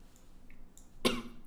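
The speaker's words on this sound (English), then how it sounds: "Deal with the coughing." A single sharp cough from a sick person bursts out after a quiet stretch, close and fairly loud, with faint throat sounds before it.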